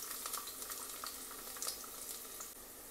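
Garlic dropped into hot mustard oil with a pinch of asafoetida, giving a steady, close frying sizzle with crackling pops and brief spits, no voices.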